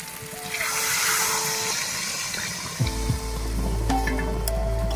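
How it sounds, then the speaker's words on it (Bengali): Water poured into a pan of chicken curry frying in oil, a rushing gush over steady sizzling, followed by a sharp hiss and bubbling as the liquid hits the hot pan, fairly loud and close. "তেল ছেড়ে দিয়েছে, এখন আমি দিয়ে দিচ্ছি জল"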